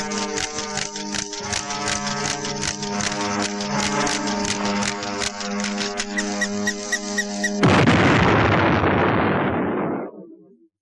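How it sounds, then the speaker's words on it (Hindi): A toy bomb going off, opening with a loud squeaky, beeping electronic warble that repeats for several seconds, then breaking into a harsh burst of noise that slowly fades away, heard close with no voices. "ये बम वाला टॉय किसने शुरू किया है?"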